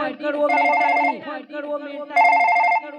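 A telephone bell rings loudly in two long bursts separated by a short pause, with a voice speaking in between.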